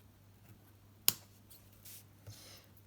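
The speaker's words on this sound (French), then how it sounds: "Donc maintenant, nous allons pouvoir découper" Scissors cut through paper while a Christmas card is made, giving one sharp snip followed by a few softer cutting sounds, close and quiet.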